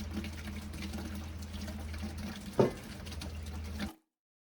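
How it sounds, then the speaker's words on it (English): Water runs and splashes steadily over cut sugarcane sections being washed before juicing, a soft continuous flow with one brief louder splash before it stops. "Once the canes are cut into smaller sections, wash them thoroughly before juicing."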